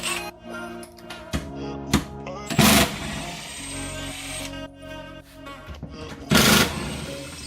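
A power tool whirs in bursts while removing bolts from the plastic tire carrier of a 2020 Jeep JL EcoDiesel, with sharp mechanical clatters between runs and someone talking over it.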